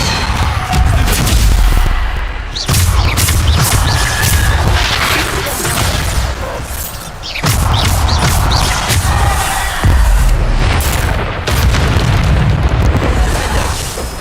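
Repeated Bombarda blasting-spell explosions in Hogwarts Legacy, loud booming bursts that follow one another almost continuously with a few brief gaps, dense and close, and a faint voice occasionally underneath.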